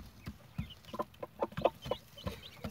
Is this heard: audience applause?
no